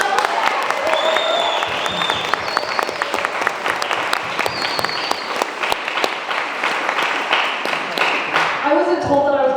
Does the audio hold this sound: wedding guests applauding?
yes